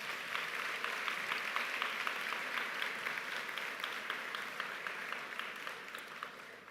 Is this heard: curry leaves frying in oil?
no